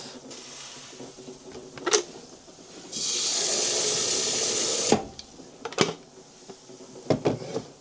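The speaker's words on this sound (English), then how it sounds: "I'll put a bit of cold water in there first so I don't burn it." Water gushes from a tap into a sink for about two seconds, steady and hissing, between clunks and handling noises.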